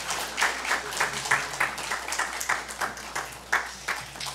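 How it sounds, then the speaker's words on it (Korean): A church congregation claps together during a Parents' Sunday service, a rhythmic unison beat of roughly a dozen firm claps at a steady pace, close and moderately loud. "함께 박수치면서 사랑으로 축복합니다"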